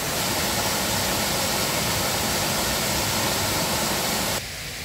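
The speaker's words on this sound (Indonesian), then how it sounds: "Jadi karena air terjunnya itu melebar ya, melebar tuh." Broad, steady roar of a wide waterfall in a tropical forest in the Bukit Barisan hills, loud and continuous, dropping abruptly near the end.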